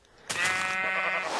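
A single sheep in Minecraft lets out a loud, close bleat, wavering and nasal, lasting about a second.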